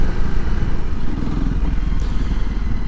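A Honda CRF300 Rally on its stock exhaust accelerates at full throttle, giving a close, steady, throbbing engine roar throughout with no letup.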